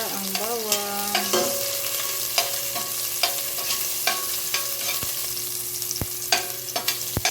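Garlic sizzles and fries in a small amount of cooking oil for chicken tinola, a steady close crackle broken by clinks and scrapes of a utensil stirring in the pan, with no talking.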